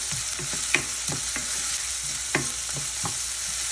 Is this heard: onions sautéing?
yes